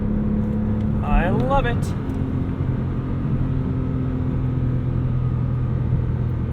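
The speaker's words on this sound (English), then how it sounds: "Absolutely fantastic noise coming from that flat 6." A 2008 Porsche 911 Carrera's flat-six engine drones steadily and loudly from inside the car, with a brief rising rev in the first seconds, while a voice speaks briefly over it.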